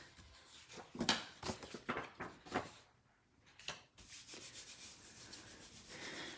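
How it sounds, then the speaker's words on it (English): Paper rubbed by hand onto a gel printing plate, a series of close, dry swishing strokes in uneven rhythm, then a brief pause and a softer continuous rubbing. "Maybe a little more rubbing is called for too."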